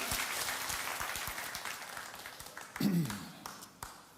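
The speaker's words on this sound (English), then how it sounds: "give yourselves a round of applause" An audience at a live faith seminar gives itself a round of applause, heard as soft, fairly distant clapping that tapers off, with a brief voice or thump breaking through partway.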